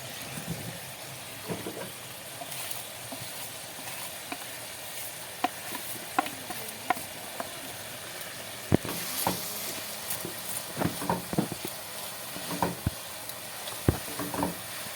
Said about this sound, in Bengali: এই যে জলটা ফুটে উঠেছে আমি ভেজে রাখা সিমাইগুলো দিয়ে দিচ্ছি